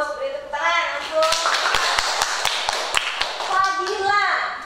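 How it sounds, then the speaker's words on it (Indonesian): Classmates clap for a student during a classroom lesson, a short burst of sharp hand claps in the middle, loosely rhythmic and close, with children and a teacher talking before and after. "Beri tepuk tangan untuk"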